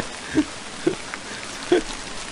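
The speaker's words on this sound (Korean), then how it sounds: "비가 오네. 빨리 우산 써." Steady rain falls outdoors, a soft continuous hiss with a few louder drips or taps scattered through it, fairly close and without talking.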